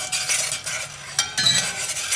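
Garlic sautés in a pan with a light broadband sizzle, while a utensil scrapes and stirs through it in short bursts.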